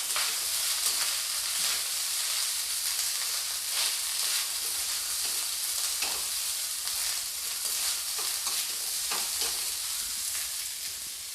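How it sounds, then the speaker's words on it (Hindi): Rice roasting with salt in a hot pan, a dense continuous frying crackle and sizzle with scraping stirring sounds running throughout at close range. "सॉल्ट डालकर मैं राइस को अच्छी तरीके से भूनकर रेडी कर लेती हूँ।"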